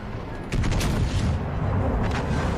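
Warship guns fire in World of Warships Legends, a loud booming volley arriving about half a second in, with a second, softer blast near the two-second mark, under heavy rumbling background.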